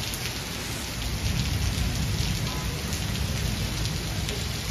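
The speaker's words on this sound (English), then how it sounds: "heavy rain caused the parts of Broward and Miami-Dade counties to flood" Heavy rain pours down across South Florida's Broward and Miami-Dade counties during flooding, a dense, steady hiss of drops striking surfaces that holds at an even loudness throughout, with no voices.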